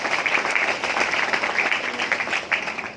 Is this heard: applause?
yes